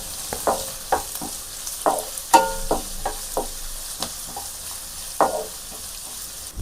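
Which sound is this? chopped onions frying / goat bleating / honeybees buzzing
chopped onions frying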